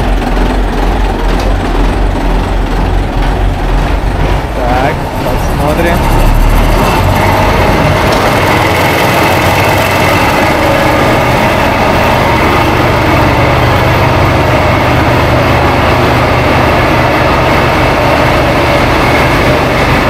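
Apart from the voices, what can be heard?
engine running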